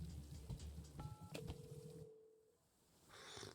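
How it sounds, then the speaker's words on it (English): Phone-like electronic ringing tones in the Wanderstop video game, a few short beeps followed by a longer steady tone, heard up close over soft ambient game sounds with no one talking. "Why does it sound like a phone was ringing there for a second?"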